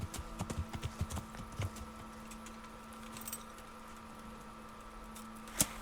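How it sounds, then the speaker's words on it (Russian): Horse hooves clip-clop in Kingdom Come: Deliverance, a short run of soft, fairly quiet steps in the first two seconds over a steady background hum, then a single sharper knock near the end. "Лошадь. Это не та лошадь?"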